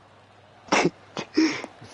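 A single human sneeze, close and fairly loud, with a quick breathy intake followed by the burst, set against a quiet background during a golf video game session; a short spoken word follows.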